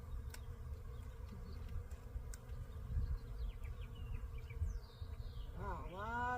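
Honeybees droning steadily from a hive just unwrapped after winter, a dense close buzz with individual bees passing by, and a brief higher whine near the end.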